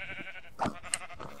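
A sheep bleats in the Minecraft video game, a short clear call that rises once mid-clip against a steady background tone, with a brief sharp click just after it.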